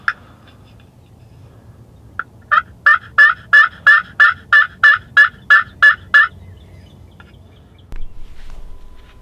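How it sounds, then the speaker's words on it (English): Wild turkey toms gobble from the roost on a Wisconsin spring morning, a loud run of about a dozen evenly spaced rattling gobbles that stops abruptly, with quiet woods before and after. "We had some toms gobbling on the roost right away on Saturday morning"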